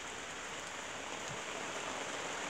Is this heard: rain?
yes